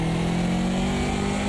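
A BMW 2002 Turbo in the AMS2 racing game, its engine droning steadily at high revs as the turbo comes on around 4,000 rpm, loud and continuous with no talk.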